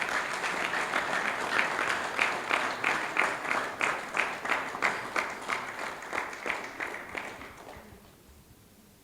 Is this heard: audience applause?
yes